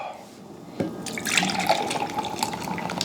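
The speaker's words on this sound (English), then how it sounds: "that's an aggressive pour" Beer splashes hard into a glass in a fast, aggressive pour, starting with a sharp hit and then a steady bubbling, fizzing gush that stays close and fairly loud, with no talking.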